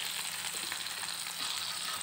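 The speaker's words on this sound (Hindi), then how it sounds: "इसको शैलो फ्राई कर लें।" Chicken malai tikka pieces shallow frying in oil in a pan, a faint, even crackling sizzle with soft popping, steady and unbroken, with no one talking.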